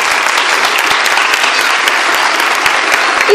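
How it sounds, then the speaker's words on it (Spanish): Dense, steady applause from an audience for Apolinario, a continuous loud wash of many hands clapping with no voices on top. "Yo le daría un fuerte aplauso a Apolinario"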